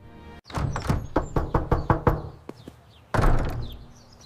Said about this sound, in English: Mia, do you hear that? Who is at the door?